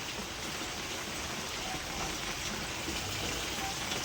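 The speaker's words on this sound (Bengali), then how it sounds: "আজকে সকালে এই বৃষ্টি শুরু হয়ে গেছে" Steady morning rain in early spring falls as a continuous, even hiss of drops across the whole stretch, fairly close and with no voices over it.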